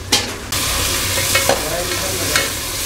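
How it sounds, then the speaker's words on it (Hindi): Two to three tomatoes fry and sizzle loudly in a pan for Hyderabadi chicken biryani, a steady close hiss with a few scraping stirs of a spoon breaking through. "टमाटर, 2 से 3 टमाटर ऐड करेंगे इसमें। 2 से 3 टमाटर, इसको 2 से 3 मिनट भूनेंगे।"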